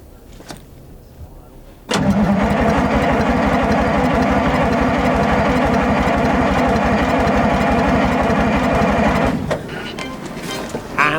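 A massive monster truck engine cranks and fires up, then holds a loud, rough, rumbling idle for several seconds before dropping to a quieter level.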